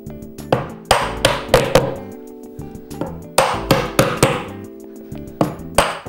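Hammer blows drive plastic dowels into holes in kitchen cabinet panels during assembly, with about a dozen sharp knocks arriving in quick pairs and bursts and a short pause between groups.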